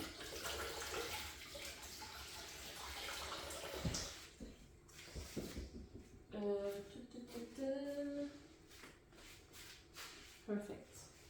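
Hands are washed under a running tap, the water hissing and splashing for several seconds. The water fades out as a person starts talking, and another brief splash comes near the end.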